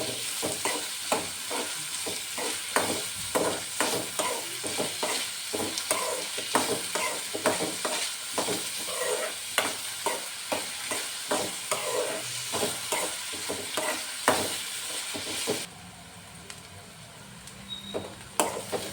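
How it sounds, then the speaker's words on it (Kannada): Finely chopped onions sautéing in a pan for a palak paneer base, with a steady sizzle and rhythmic spatula scrapes throughout before the sound drops sharply near the end, close by with no talking. "ಈರುಳ್ಳಿನ ಸ್ವಲ್ಪ ಬಾಡಿಸ್ಬೇಕು ಚೆನ್ನಾಗಿ ಕೆಂಪಗೆ ಬಾಡಿಸ್ಕೊಳ್ಬೇಕು"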